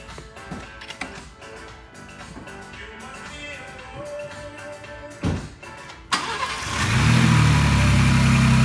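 A 2022 Ford Bronco Raptor fitted with a Whipple charge air cooler cranks and fires up after some clattering and shop noise, its engine catching with a rev and then settling into a loud, steady rumbling idle.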